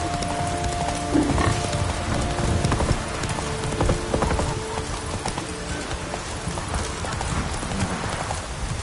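A horse gallops in The Witcher 3 video game, with steady clip-clop hoofbeats close up alongside a brief neigh and a busy game soundscape.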